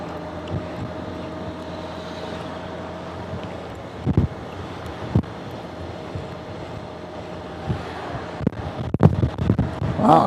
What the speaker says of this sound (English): Wow, kind of windy here.